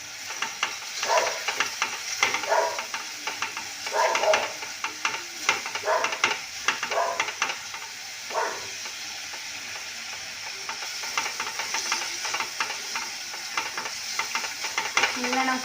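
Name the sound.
onions frying and being stirred in a pan for fish curry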